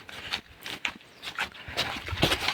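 A dog pants in quick, uneven bursts close by, with some shuffling movement in between.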